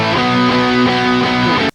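Distorted electric guitar chugs through a dense pop-punk riff with rhythmic chord changes, loud and saturated, cutting off abruptly at the end.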